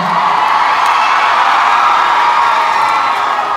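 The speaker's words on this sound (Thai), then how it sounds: "เสียงกรี๊ดของทุกคนถือเป็นกำลังใจที่ดีของศิลปินมาก ๆ เลย" A loud, dense concert crowd of fans at a T-pop campus show roars with high-pitched screaming and cheering, sustained and steady throughout, no individual voices standing out.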